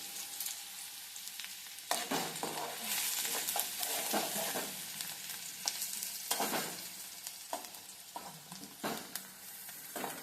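Onion fries in oil on a gas stove whose burner nuts are loose, giving a steady bright sizzle with occasional metallic rattling knocks as it is stirred. Close and fairly quiet, with no talking.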